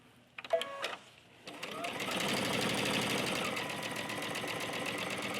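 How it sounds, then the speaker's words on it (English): A sewing machine stitching a folding fabric basket starts up after a few clicks and runs in a steady, fast mechanical whir, close and fairly loud. "we can sew all the way across this back flat side"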